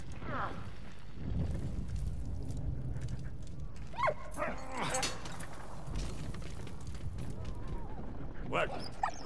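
Dog barking and whimpering in the video game Valiant Hearts: The Great War, short yips and whines over low game background, with a person talking over parts of it.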